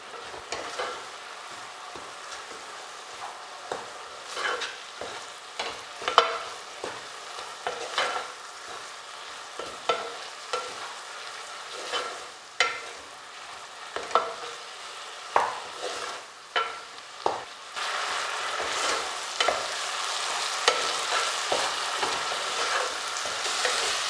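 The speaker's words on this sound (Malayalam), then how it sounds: "ഇനി ഇതിലേക്ക് ചിരകി വെച്ചിരിക്കുന്ന തേങ്ങയും ഏലക്കപ്പൊടിയും ചേർക്കാം നന്നായിട്ട് മിക്സ് ചെയ്യാം" A jackfruit ada filling of melted jaggery, grated coconut and cardamom powder is stirred in a hot pan for a Kerala snack, a steady soft sizzle under repeated scraping strokes, close and continuous, with no speech.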